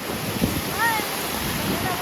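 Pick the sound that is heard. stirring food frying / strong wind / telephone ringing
strong wind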